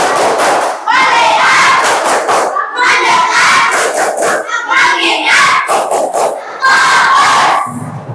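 An Indonesian primary class does a rhythmic concentration clap, with loud, close bursts of children shouting and chanting in unison over the beat of their claps.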